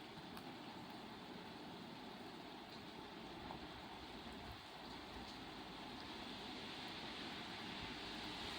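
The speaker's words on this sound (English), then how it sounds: "Bring the rain." Steady rain falls outdoors by a cliffside house near the beach, a dense, even hiss of drops on surfaces that holds unbroken for the whole stretch, soft and constant with no talking.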